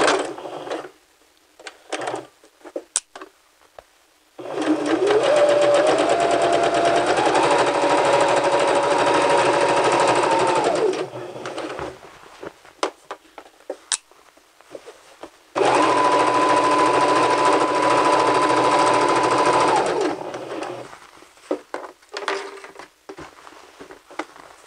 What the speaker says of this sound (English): So let's go ahead and stitch, making sure that the edge of your fabric is on the 5/8 inch line